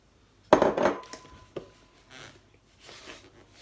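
Wooden spoon working egg whites into batter in a bowl, a few soft scraping and knocking strokes, the first loudest, then fainter swishes, close and without talk.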